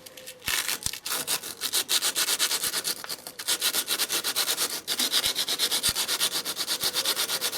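An old sander belt scrubs the inside of a copper pipe in quick, rhythmic back-and-forth strokes, a close, raspy rubbing sound repeated steadily throughout.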